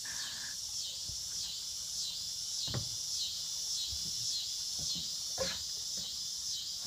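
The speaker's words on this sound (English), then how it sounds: "Can you hear the cicadas?" Steady high-pitched insect drone, like cicadas, fills the background continuously, with a few soft knocks and rustles nearby.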